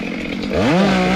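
A Husqvarna T540XP Mark III chainsaw cutting wood, close and loud, its engine pitch sweeping upward and then holding a high, steady whine as it bites into the wood.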